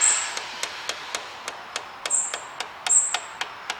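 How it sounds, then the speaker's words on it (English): A small hammer taps a gearbox seal into place on an Audi A3 in a garage, making a steady series of light, sharp metallic taps, close up, with a few faint high pings between them and no talking. "Now it's got a little hammer, and I'm just going to very, very gently get this started."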